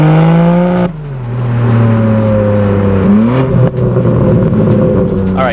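A loud, close BMW M4 Competition Cabriolet engine revs hard, its harmonic pitch climbing and shifting through gear changes as it accelerates, with a steady whirring roar throughout.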